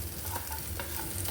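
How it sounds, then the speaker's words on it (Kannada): Poppy seeds fry in a pan while being stirred for a chicken saaru, a close, steady sizzle with light scraping strokes and no talking. "ಇದಕ್ಕೆ ಅದನ್ನು ಸಹ ಒಟ್ಟಿಗೆ ಫ್ರೈ ಮಾಡ್ಕೊಳ್ತಿದ್ದಾನೆ"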